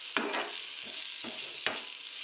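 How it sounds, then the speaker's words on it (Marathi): Chili bhaji frying in a pan with coriander powder, stirred in four quick scraping strokes over a steady close sizzle. "चांगलं मिक्स करून घ्यायचं आहे."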